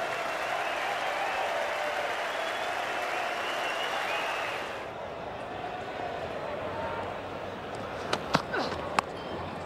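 Cricket crowd at a Test match in Brisbane, Australia vs New Zealand, applauding a batsman off the field: a steady, broad wash of clapping for about five seconds that then drops to lower crowd murmur with a few sharp knocks.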